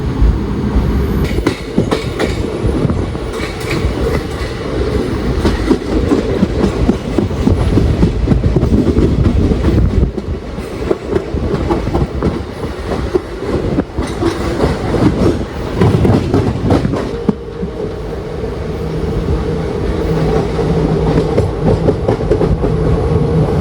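Ernad Express passenger train running steadily after leaving Chalakudy station, a continuous loud rumble of wheels and carriage noise with clickety-clack rhythm throughout, no talking.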